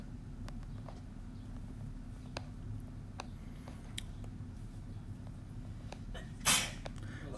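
A single short sneeze bursts out near the end of a calculus lecture on multiple integration, loud against a quiet room with faint scattered clicks and a low hum.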